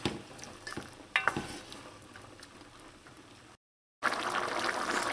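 A pot of black beans and vegetables simmers in sauce with a soft, steady bubbling and occasional stirring knocks, cutting briefly to silence before the bubbling returns louder.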